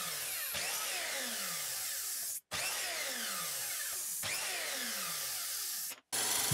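Wooden pieces for organ pallets are cut to length with a power saw in three close passes, each a rising whine with the blade biting through the wood, broken by brief silences between cuts.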